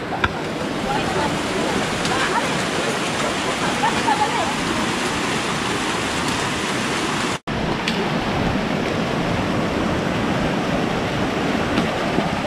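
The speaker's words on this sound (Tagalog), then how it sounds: "Ang lakas ng ulan." Heavy rain pours steadily in a broadband hiss that stays loud and unbroken for the whole stretch, cut by one brief dropout partway through; no voices stand out above the downpour.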